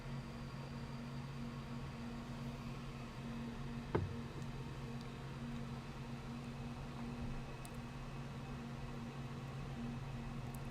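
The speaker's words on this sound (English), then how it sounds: "That's the air conditioner going on." An air conditioner runs in a quiet room as a faint, steady hum with a soft airy hiss, unchanging throughout, broken only by a single light tap partway through.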